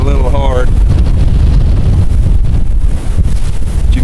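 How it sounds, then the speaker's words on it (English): Strong wind gusting around 40 to 50 miles an hour at an outdoor coyote trapping site buffets the microphone with loud, continuous rumbling roar, and a voice is briefly heard over it. "The wind is blowing about 40, 50 miles an hour right now"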